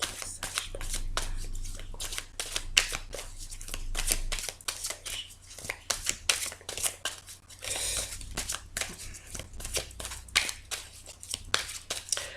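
A deck of tarot cards being shuffled and cut by hand at close range, with rapid riffling flutters and crisp snapping slaps in an uneven, continuous rhythm.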